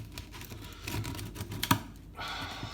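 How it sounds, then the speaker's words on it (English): A knife saws through a loaf of Aussie damper bread baked in a small toaster oven with dried herbs on top. Close, crisp scraping and crunching strokes come in a rapid, uneven series, with a couple of sharper cracks. "So let's just cut some slices up for dinner."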